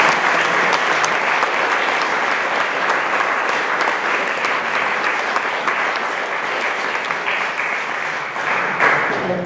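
An audience at a cultural award ceremony applauds steadily, a dense, even wash of many hands clapping that holds at a strong level throughout and tapers slightly toward the end, with no voices above it.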